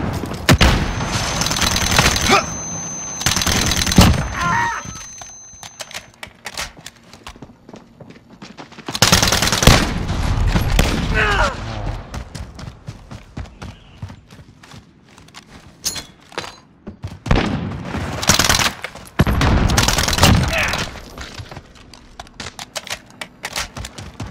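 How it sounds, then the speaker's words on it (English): Uzi gunfire: several loud bursts of rapid automatic shots, each lasting about a second, separated by quieter stretches with scattered faint rattling and clicks. "I've been practicing with my guns"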